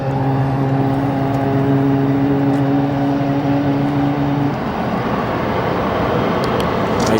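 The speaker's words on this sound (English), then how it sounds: "Is that CFM LEAP engine? One of the best startups money can buy." An airliner's CFM LEAP jet engine at Phoenix Sky Harbor Airport runs with a steady, loud roar and droning tones that shift as it spools, heard from outside at moderate distance.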